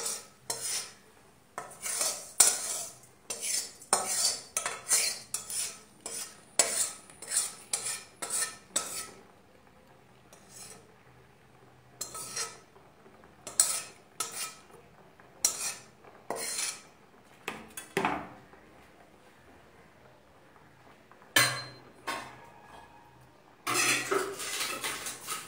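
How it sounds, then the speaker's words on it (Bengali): Fried rice and lentils tipped into a metal pot for vegetable khichuri, followed by repeated clanking and scraping as a spoon stirs against the sides, loud and close with short pauses between bursts. "সব শুদ্ধ দিয়ে দিচ্ছি ভাজা চাল ডাল।"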